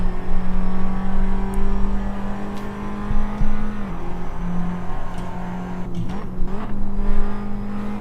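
A race car in Assetto Corsa runs at full throttle with a steady, droning engine note and a shift in pitch partway through, plus brief tire and gear noises in the later seconds, with no talk over it.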